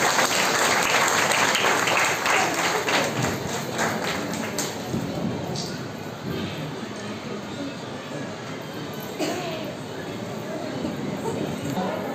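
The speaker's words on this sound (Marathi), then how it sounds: "रेखा नाडकर टाळ्या होत्या जोरदार." An audience at a Haldi Kunku event hosted by a Kunbi charitable trust in Mumbai applauds, giving a continuous, busy wash of clapping that holds steady for about twelve seconds, with some voices mixed in.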